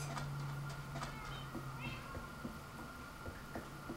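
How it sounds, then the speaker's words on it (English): Tame cats meowing in the Minecraft video game, a few soft, fairly faint meows scattered over a quiet background with no talking. "And now there's just millions of tame cats in there."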